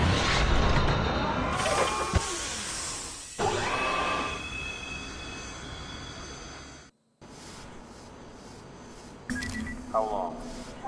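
A tram rolls along rails in the video game STASIS, a rumbling ride with metallic wheel squeals and screeches rising at intervals, briefly cut to silence midway before resuming.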